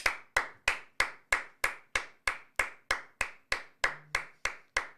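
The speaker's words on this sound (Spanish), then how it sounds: "Chat, un aplauso para Franco." In a football streaming studio after the Cerro vs Olimpia superclásico, sharp single hand claps repeat at a steady, even pace, about three per second, crisp and close with nothing else underneath.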